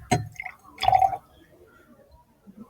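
Water poured into a glass already holding five berries, with two short bursts of splashing and dripping, the second one longer and louder, then near silence.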